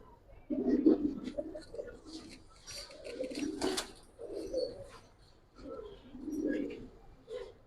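Pigeons of old Giribaz and colour breeds coo softly in a loft, several low, rolling coos repeating in a loose rhythm at close range, with faint background voices and shuffling.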